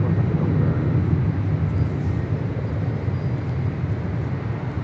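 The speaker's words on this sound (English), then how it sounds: "This is Alaska Airlines Flight 1179 departing to Seattle on a 737-800 in the Disneyland Pixar Pier livery." Steady, loud broadband roar of an Alaska Airlines Boeing 737-800 in Disneyland Pixar Pier livery departing LAX for Seattle, a continuous jet rumble with no breaks throughout.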